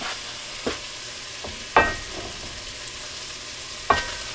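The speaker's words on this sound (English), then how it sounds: "Now I've got all this rice we are going to dump into this." Rice is dumped into a hot pan of squirrel meat and sausage and stirred, with a steady frying sizzle broken by three sharp scraping clanks.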